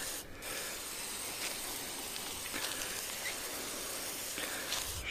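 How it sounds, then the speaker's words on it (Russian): A low-held sprayer mists weed killer onto outdoor paving tiles, giving a soft, quiet hiss in short repeated bursts with faint background noise. "Распыление держим низко."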